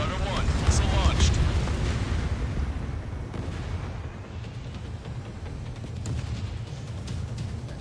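Missile launch and explosion in the Ace Combat 7 jet combat video game, a dense roaring blast and rumble with crackling bursts, loud at first then easing into a sustained low roar, under radio chatter.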